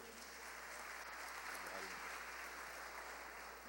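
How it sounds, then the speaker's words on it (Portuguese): Church congregation applauding together, a dense continuous wash of clapping from many hands filling the room at steady loudness, with no voices standing out. "Você pode aplaudir ao Senhor Jesus?"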